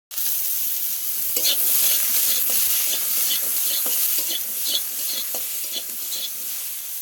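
Radish drops into a hot spice tempering in oil and sizzles at once, a loud bright hiss that holds steady, broken by scraping strokes of a stirring spoon against the pan.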